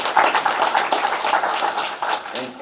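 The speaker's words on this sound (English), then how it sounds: "Big round of applause." Audience at a meet-the-candidates forum clapping for the moderator, a short burst of close, moderately loud applause with some speech-like sound mixed in.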